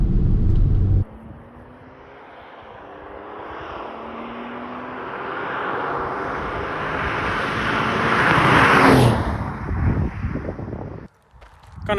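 Porsche 996 Carrera 2 with a fresh engine driving on scenic North Hertfordshire roads, a steady engine and road rumble building gradually before dropping away near the end, with no talk.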